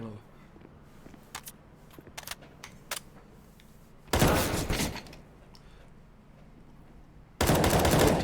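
Two loud, sustained bursts of automatic machine gun fire from a team-based shooter video game, each lasting under a second, set against a low background with scattered faint clicks and occasional speech.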